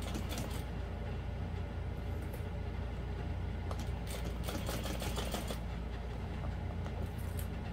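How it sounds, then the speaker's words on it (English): Sewing machine stitching through thick all-vinyl bag layers, a steady mechanical whir with rapid needle clatter running continuously, close and moderately loud. "my sewing machine didn't mind it, surprisingly."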